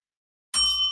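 A small bell gives one bright ding about halfway through, ringing out clearly and then fading after a moment of silence.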